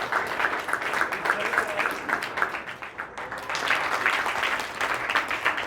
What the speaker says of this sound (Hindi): जोरदार तालियां पूरे परिवार के लिए